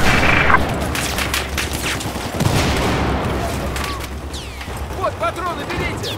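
Rapid gunfire from Battlefield 4 (Operation Locker map, M911 pistol in play) crackles as dense, overlapping bursts throughout, loud and continuous, with game effects and voices mixed in.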